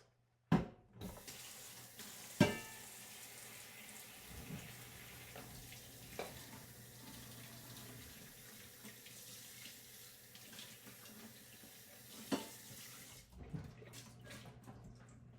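Water runs from a tap while something is washed in a sink, a steady, fairly faint stream with a few knocks and splashes of handling, starting and stopping abruptly.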